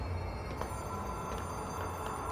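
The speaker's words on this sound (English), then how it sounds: "We're getting close, I can hear the ringing." Phone ringing faintly in the video game Control, a soft bell-like tone buried in a steady low electronic hum and static, continuous with no talk.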